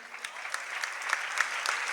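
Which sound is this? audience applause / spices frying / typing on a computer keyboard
audience applause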